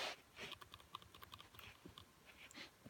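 Quiet typing on a computer keyboard: a quick run of soft, close key clicks for a few seconds over faint background hum.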